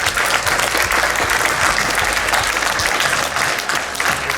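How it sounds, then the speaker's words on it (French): A conference audience applauds, dense, steady clapping from many hands filling the room throughout. "Donc je pense qu'on peut tous les applaudir."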